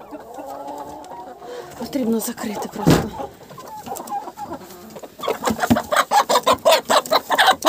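Chickens cluck and a rooster calls in a backyard coop as they are herded inside in the evening; someone talks and makes shooing sounds over the birds, with busy, close flapping and scuffling toward the end.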